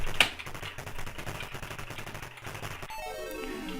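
Rapid machine-gun fire in the Atari ST game Commando, a loud continuous rattle of shots over game music, with no talking.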